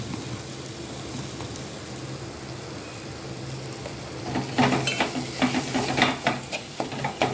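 Masala paste of ground coconut and garlic sizzles steadily in a pan for patvadi, then a spoon stirs it with repeated scraping strokes over the last few seconds, close and clear.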